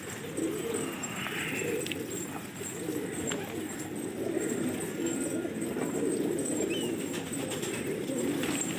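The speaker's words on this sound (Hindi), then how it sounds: "कितने सौ कबूतर है ये तेरे" Many domestic gola pigeons in a loft cooing in a continuous low murmur, with occasional wing flaps and faint chirps mixed in, steady and close.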